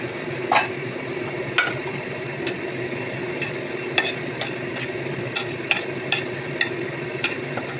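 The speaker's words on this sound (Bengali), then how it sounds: "আর কালো জিরা ফোড়ন দিয়ে দিয়েছি।" Dried chilli and nigella seeds sizzle in hot oil as the tempering for an eggplant fish curry, a soft steady frying hiss broken by several sharp spoon taps against the pan.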